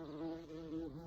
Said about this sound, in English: do you hear the bee?